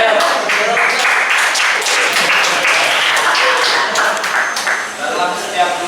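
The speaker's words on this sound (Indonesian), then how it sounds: "Ayo mari kita aplaus pada ya." An audience applauds at an Indonesian professional-development presentation session, a dense, steady wash of many hands clapping that fills the whole stretch without a break, with speech blended in underneath.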